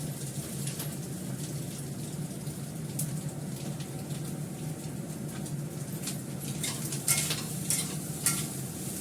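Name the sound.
chowmein being stir-fried in a dry pan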